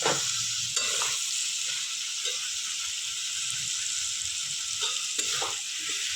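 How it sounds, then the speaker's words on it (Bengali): Okra hits a hot pan of well-fried masala and sizzles in a steady, bright hiss, with a few soft stirring knocks near the start and middle. "এখন আমি দেব এই ভেন্ডিগুলো আমি এখানে দেব।"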